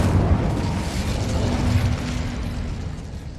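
Incendio fire spell cast in the Hogwarts Legacy video game, a loud, deep rumbling whoosh and boom of flame that sustains, then fades slightly.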